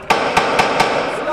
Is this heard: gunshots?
yes